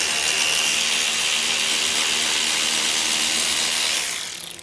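A cordless ratchet backs out fasteners holding the brush guard on a Honda ST90, giving a loud, steady high-pitched whir for about four seconds before it spins down.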